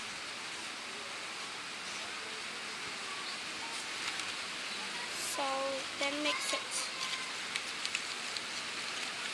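Steady rain falls outside on a wet day, a continuous even patter and hiss heard from indoors. A person speaks briefly over it, with some light clinks and a short tonal sound in the middle.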